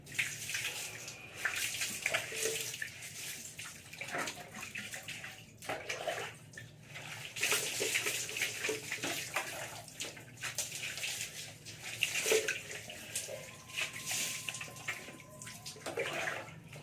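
Water splashes and pours as it is scooped from a water drum and poured out repeatedly, with irregular sloshing at close range.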